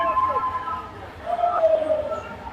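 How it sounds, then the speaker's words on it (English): Crowd cheering and shouting at an IUKL European kettlebell championship in York, a steady indoor roar of voices rising and falling over about two and a half seconds with a brief swell near the middle. "You can hear the crowd now."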